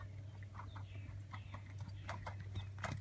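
Horse hooves clip-clop in a steady rhythmic pattern during a dressage session, fairly faint and heard alone over a constant low hum.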